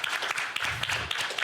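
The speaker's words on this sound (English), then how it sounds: "Can we get a round of applause?" Audience applause for a neighborhood community figure, a brief burst of dense clapping with some voices mixed in, fairly close and steady throughout.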